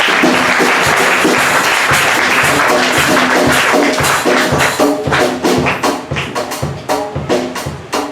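A church congregation applauding and cheering, loud sustained clapping from a large crowd that thins into a rhythmic beat of claps toward the end.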